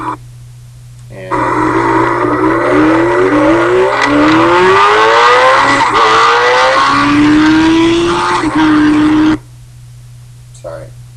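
Car engine revving hard and accelerating through rising gear pulls for about eight seconds, loud and close, with a low steady hum underneath and brief quiet before and after.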